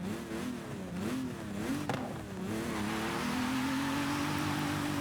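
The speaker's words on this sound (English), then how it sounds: "BMW M1 is an absolutely iconic car with its V12" A BMW M1's V12 revs in Forza Horizon 5, the engine note climbing and dipping through several throttle blips before settling into a sustained, steady drone.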